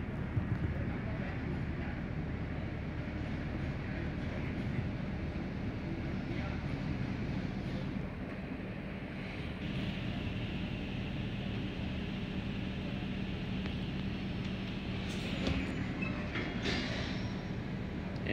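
An intercity train slowing as it arrives at a station gives a low, steady rumble with faint rail clatter and occasional squeals, heard from inside the train.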